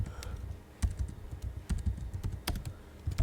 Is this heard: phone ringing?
no